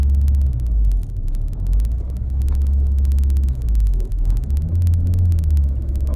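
An Acura RSX DC5 with its power steering removed and a check engine light on cruises along, a deep steady engine and road rumble filling the cabin, loud and continuous with slight swells in the drone.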